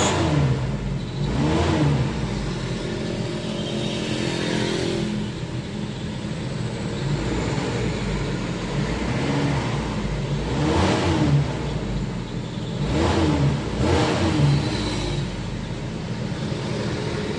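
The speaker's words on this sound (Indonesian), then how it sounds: "kita hidupkan dulu untuk mobilnya" A car engine idling steadily with repeated rises as it is revved, each swell lasting a second or two, loud and close with no talk.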